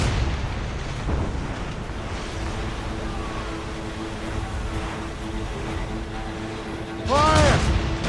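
Ship cannons fire in the Assassin's Creed Rogue video game, heavy booming blasts over a churning sea and crashing waves, with a louder burst near the end; no clear voices are heard.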